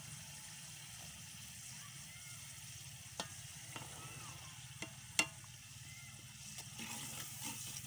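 Peas sizzle in hot oil with a spice tempering, cooked outdoors in fields for biryani, a soft continuous frying hiss with a few sharp clinks and scrapes of stirring, faint and close, with no one speaking.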